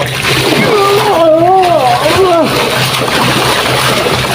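Water splashes and sloshes in a brackish river where people are fishing. Loud, close splashing runs under excited shouting and talking.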